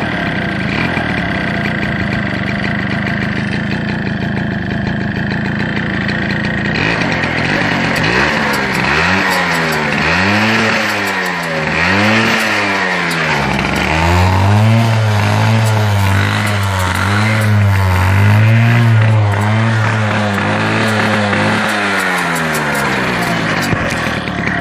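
A Fantic Issimo moped engine runs steadily outdoors, then revs up and down in repeated rising and falling sweeps, loud and close, with no talk over it.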